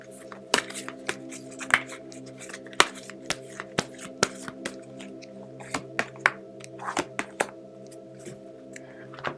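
Tarot cards are shuffled and drawn with a series of sharp, crisp card flicks and taps, close and fairly quiet, repeating irregularly over a faint steady hum.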